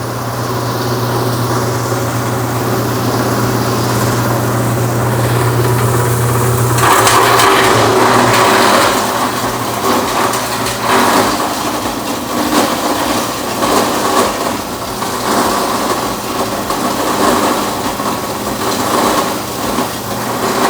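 A BDG Compact 1 mini granulator runs loudly and steadily while granulating copper, a constant mechanical whir joined partway through by rougher grinding and rattling that persists to the end.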